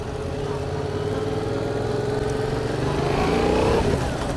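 A Yamaha MT-07 motorcycle riding, its engine note holding a steady drone that climbs in pitch toward the end as it accelerates, heard continuously and fairly close.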